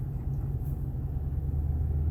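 Toyota Tundra with a new TRD exhaust driving, a steady low engine rumble with a deep hum, quiet and fairly subdued, close and continuous with no voices.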